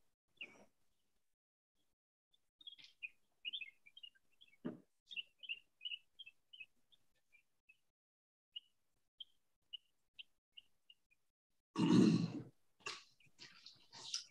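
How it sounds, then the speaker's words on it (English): Small birds chirp faintly in the background, a string of short high tweets spaced irregularly over several seconds, with a brief breathy noise and a louder rustle near the end. "I'm going to have these birds in the background in the future."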